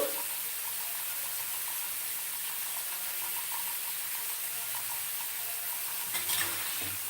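Curry leaves frying in hot oil for a simple curd dish, giving a steady broadband sizzle that runs throughout, close and even, with a small clatter near the end and no talking.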